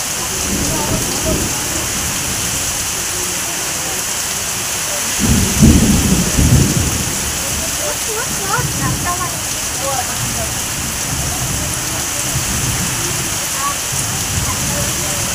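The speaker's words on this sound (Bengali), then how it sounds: "প্রচণ্ড বৃষ্টি হচ্ছে দেখো।" Heavy rain pours down over a muddy village in the Sundarbans, a dense continuous hiss of drops on surfaces broken by deep rolling rumbles of thunder, one swelling loudest near the middle, with no voices heard.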